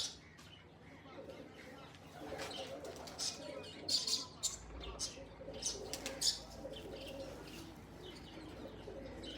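Small-beaked pigeons coo softly and repeatedly at close range, with chirps and an occasional flutter of wings, while people talk nearby.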